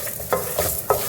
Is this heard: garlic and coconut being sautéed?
yes